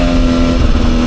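A 2024 Beta 300 RR Race Edition two-stroke dirt bike engine running loud and close, a steady droning tone with slight throttle wobble, heard from onboard while riding.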